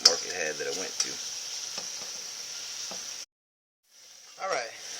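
Round steak fries in a pan for Cajun gravy, a soft steady sizzle beneath someone talking, broken by a brief drop to silence before the sizzle and voice return.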